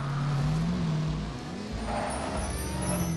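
Monster truck engine in the Disney Infinity 2.0 racing game, a steady, loud, droning rev with slight pitch wobble that holds throughout without pause.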